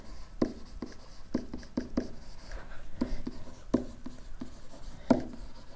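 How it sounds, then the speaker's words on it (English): Handwritten notes going down on paper at close range: a steady scratch of pen strokes with sharper taps roughly every half second, no voices over it. "I'm going to actually write that down."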